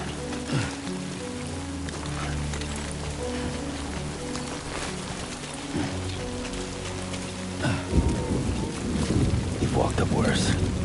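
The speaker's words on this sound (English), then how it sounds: "Great. Rain." Heavy rain falls in the video game Death Stranding, a dense steady patter with low rumbling and game tones beneath, building louder toward the end.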